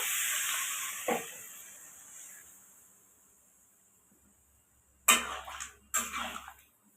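Coconut milk poured onto ginger frying in oil gives a hissing sizzle that fades away, followed by two sudden loud bursts of spattering sizzle close by.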